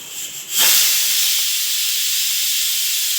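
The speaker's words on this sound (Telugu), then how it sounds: "చేప తక్కువ ఉన్నాయి కదండి అందుకనే కొంచెం కొంచెం వేస్తున్నాను నేను" Fish pieces dropped into hot oil in a home kitchen pan set off a sudden loud sizzle that settles into a steady, bright hiss and continues alone.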